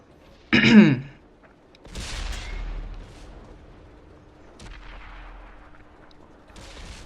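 A single heavy cannon blast from a Tiger tank in World of Tanks booms out sharply and close, followed by low rumbling engine and track noise with faint scattered impacts afterward.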